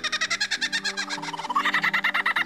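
Rapid, rhythmic calls from a lyrebird imitating other birds repeat in quick succession, a bubbling series of chirps over a low tonal backdrop.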